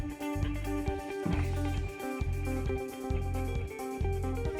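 An isolated electric guitar track from a song plays a repeating rhythmic figure with sustained chiming tones over pulsing low notes, loud and continuous.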